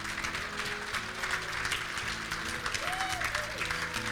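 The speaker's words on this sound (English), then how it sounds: "Can we get a round of applause for Terry and Martha?" A crowd at a 2025 WRCA Legends tribute applauds steadily, a dense, even wash of clapping from many hands heard at middle distance, with a faint tone drifting through near the end.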